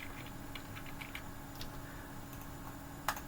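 Go code is being typed on a computer keyboard in scattered light keystrokes, close and fairly quiet over a steady background hum, ending with one sharper key press.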